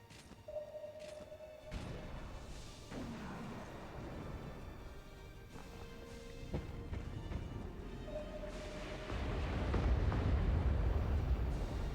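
Explosions from hitting a ship in the naval combat game Modern Warships: deep booming blasts and rumbling impacts mixed with game effects, building to a louder sustained roar near the end.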